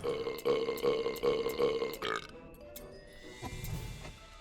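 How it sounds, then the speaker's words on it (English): A cartoonish burp sound effect from The Slormancer video game belches in several loud, rhythmic pulses, then breaks off into quieter, softer noises toward the end. "This button makes the game burp."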